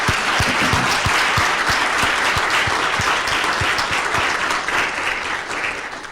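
Sustained audience applause at a school district event, loud and steady for about six seconds with a rhythmic clap near the microphone and a broad wash of clapping from the crowd behind it, fading slightly at the end.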